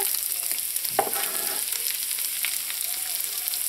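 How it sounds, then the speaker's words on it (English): Bacon frying in a pan gives a steady, bright sizzle throughout, with a short utensil scrape or clink about a second in; no talking. "When the bacon starts to crisp up, now you don't want it to get too crispy where it gets very hard."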